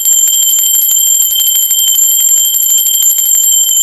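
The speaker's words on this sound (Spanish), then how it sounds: "Sí, va campana." A small bell rung at the start of a tarot reading, a bright ringing tone with sustained high overtones, close and loud, alone without talk.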